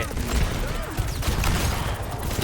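Rapid gunfire in a Thai-language mobile battle arena game, dense continuous bursts filling the whole stretch at steady loudness over a busy game soundtrack.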